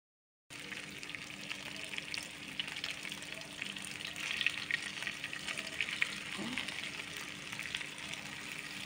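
Food frying in a small amount of oil in a kadai (wok), about three pieces at a time: a steady, close sizzling hiss that holds evenly for the whole stretch with no talking.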